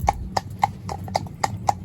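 Hooves of a cob cross horse clip-clop in a steady, evenly spaced rhythm, about six crisp strikes close by over a low background rumble, with no talk.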